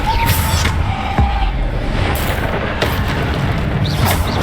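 Bombarda spell blasts in the video game Hogwarts Legacy, a dense, loud barrage of booming impacts and bursts with crowd-like noise and shouted voices over it.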